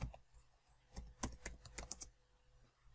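Keystrokes on a computer keyboard as a short command is typed at a Linux terminal, a quick irregular run of close, crisp clicks in the middle of the clip with quiet room hum around it.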